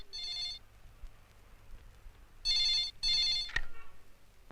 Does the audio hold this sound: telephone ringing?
yes